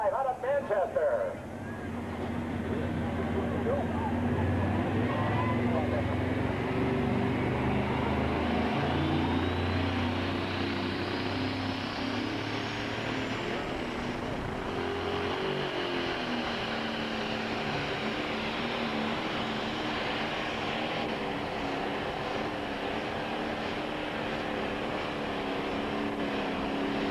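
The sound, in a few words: pro stock pulling tractor engine at full power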